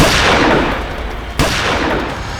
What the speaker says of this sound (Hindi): इसी बीच हम पर गोलियां चलने लगी